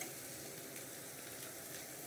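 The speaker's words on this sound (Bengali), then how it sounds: "পেঁয়াজ কাটা আমি একটু লাল লাল করে ভেজে নেব" Chopped onions fry in a pan with a steady, soft, close sizzle that crackles evenly throughout with no voices.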